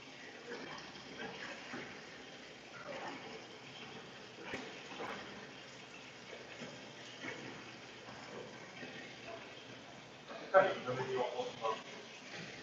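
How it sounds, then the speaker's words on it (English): Cooked ramen noodles rinsed under running water in a kitchen, a faint steady hiss of the tap with a brief louder splash near the end, while a person talks. "once the noodles are done, right, I need to wash them like to remove as much starch as possible"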